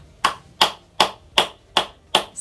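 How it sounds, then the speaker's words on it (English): Six crisp, evenly spaced hand claps, close and loud, at a steady rhythm of about one every 0.4 seconds, with near silence between them. "Simon Says, clap your hands."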